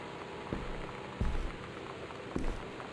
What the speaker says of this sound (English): The Northwest Weather Service reports high winds and torrential rain conditions